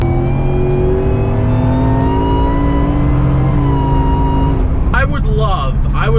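A tuned Ford F150 truck making 725 wheel horsepower accelerates hard, its loud engine note holding steady and climbing, then a sudden burst of high whine and rushing noise near the end, with excited voices over it.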